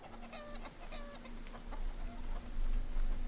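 Chickens cluck repeatedly in the game RuneScape: Dragonwilds, a soft scattered bird chatter under a steady ambient game bed with no talk.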